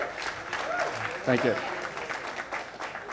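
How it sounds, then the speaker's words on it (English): Audience at a startup pitch event in Tel Aviv applauding and cheering from the front row, a steady wash of clapping that carries on under a speaker's brief thanks. "many of which are cheering me on from first row here"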